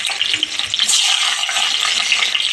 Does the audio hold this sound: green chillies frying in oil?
yes